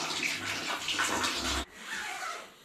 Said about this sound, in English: It's pee time.